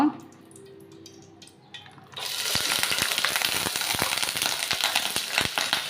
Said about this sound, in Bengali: তো ওদিকে দিয়ে দিব চিংড়ি মাছটা ভাজার জন্য।